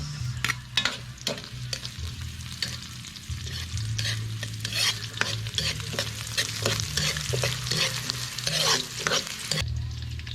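Onions frying in a pan for Ilocano buro, a steady close sizzle with bursts of louder crackling as a utensil stirs and scrapes through them, with no talking.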